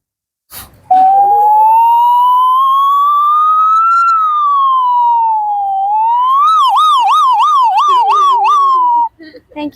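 A voice imitates an ambulance siren, starting with a long, slowly rising and falling wail and then moving into a fast warbling yelp, loud and close and heard alone.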